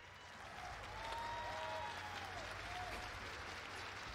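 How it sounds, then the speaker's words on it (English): Live audience applause for panelists, a game designer and a level designer, on stage at the Six Invitational 2019 esports event; dense, steady clapping sustained throughout at a moderate distance, with faint tonal sounds drifting over it. "keep that applause going for our panelists here"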